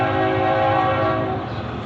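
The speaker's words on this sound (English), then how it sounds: "Sorry about the train." Train passing near an old abandoned site in New London, its horn sounding loud and steady with a low rumble of rail cars underneath throughout.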